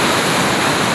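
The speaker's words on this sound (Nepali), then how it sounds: "यो ठाउँमा चाहिँ यो चाहिँ मर्स्याङ खोला है" The Marsyangdi river rushes in a steady, loud, broadband roar of water, close and continuous with no breaks or voices.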